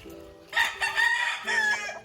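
A gamecock rooster crows twice, loud and close, each long drawn-out call rising then trailing off, with a short gap between them and faint background hum.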